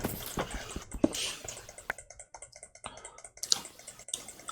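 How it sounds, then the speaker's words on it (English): Rapid computer mouse and keyboard clicking during Minecraft play, a quick irregular run of sharp close clicks and taps at low volume with no talking. "There's a lot of frantic clicking going on over there."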